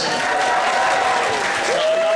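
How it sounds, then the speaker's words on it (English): A convention crowd applauds cosplayers at the close of a show. The clapping is loud and continuous, with a whistle-like tone drifting through it. "So a big round of applause for all our cosplayers."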